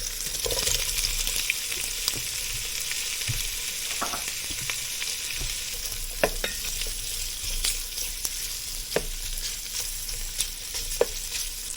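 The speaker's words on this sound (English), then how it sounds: "we're going to add 1 pound of sliced andouille sausage to it and brown it" Sliced andouille sausage browns in hot olive oil, producing a steady, moderately loud sizzle and crackle with occasional sharp pops and light stirring clicks throughout.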